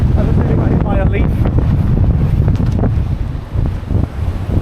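Strong storm wind with gusts reaching 80 mph during Storm Eowyn, a loud, continuous roar buffeting the microphone throughout, dipping briefly before surging again.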